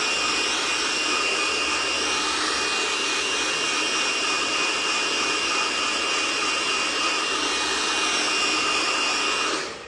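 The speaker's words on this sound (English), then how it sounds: "So my goal is make sure to move the heat blow dryer vigorously." A hair blow dryer runs continuously at high speed during a layered haircut, a loud, steady whooshing hiss with a faint whine that holds for the whole stretch before easing off at the very end.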